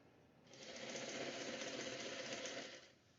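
A sewing machine stitching a pants seam while tapering trousers, one steady rapid run of about two and a half seconds that starts and stops cleanly, faint and close.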